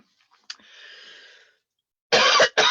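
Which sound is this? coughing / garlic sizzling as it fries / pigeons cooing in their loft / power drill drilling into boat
coughing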